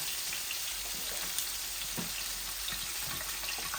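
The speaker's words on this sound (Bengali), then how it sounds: "এগুলো মাছগুলো আস্তে আস্তে ভাজা ভাজা হোক।" Rohu and tilapia fish pieces, seasoned with salt and turmeric, frying slowly in oil in a pan, giving a steady soft sizzle with faint crackles and no voices.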